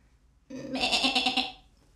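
A goat lets out one loud, wavering bleat lasting about a second, close and clear after a brief quiet start, then fading out.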